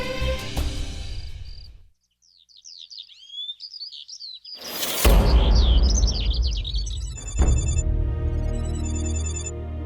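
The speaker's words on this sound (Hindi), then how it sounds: "तुम्हारा फोन बज रहा है।" A mobile phone ringtone plays a chirpy, bird-like electronic melody after a burst of dramatic music, then continues under a louder swell of score in an indoor television drama scene.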